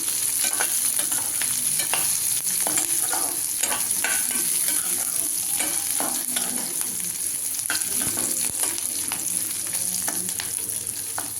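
Green chilli sautéing in a hot pan, a loud continuous sizzle with frequent scraping taps of a spatula stirring throughout, nobody speaking.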